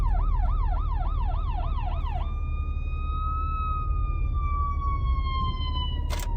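An ambulance siren wails loud and close, first a fast rising-and-falling yelp, then switching to a slow steady wail over constant road rumble.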